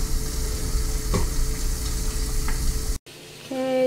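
Great Value hickory smoked bacon frying in a pan, with a steady close sizzle and crackle and a few sharper pops, then a brief cutoff followed by a quieter tonal sound.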